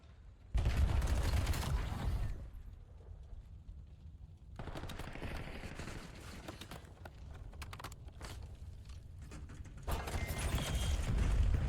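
Gunfight in the video game Black Ops 7, with loud volleys of gunfire in separate bursts broken by quieter stretches and a heavy barrage at the close.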